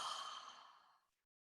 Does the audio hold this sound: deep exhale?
yes